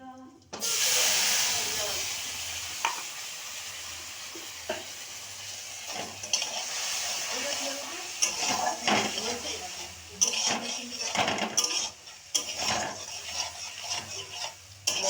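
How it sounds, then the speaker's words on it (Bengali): A spice paste of ground ginger, cumin, dried chilli and melon seeds fries in oil for a potato and cauliflower curry, giving a close, steady sizzle broken by frequent scraping and clinking of a spoon stirring the pan. "মশলাটা এবার ভালো করে ভাজা হলে"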